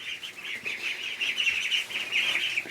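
Young ducklings and chicks, nearly three weeks old, peep steadily inside a brooder, a dense overlapping chorus of high chirps that carries on without pause and with no talk.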